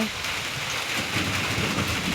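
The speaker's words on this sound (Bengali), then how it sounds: "এখানে বৃষ্টি আসতেছে" Steady heavy rain pours down outdoors with a low rumble of thunder beneath it, a dense continuous wash with no voices.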